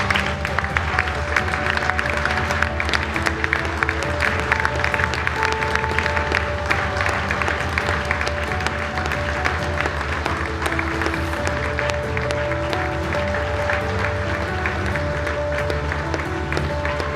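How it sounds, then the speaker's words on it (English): A high-school girls basketball crowd in a gym gives a steady, dense round of applause for two young players. It sustains evenly for many seconds with a tonal hum running underneath. "give these two courageous young ladies a huge round of applause"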